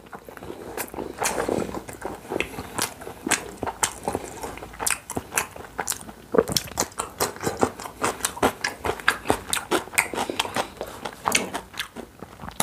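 Pizza mukbang of a melting Hawaiian pizza and wagyu steak, with close, crisp bites and wet chewing repeating in a steady rhythm, loud and intimate, with no talking over it.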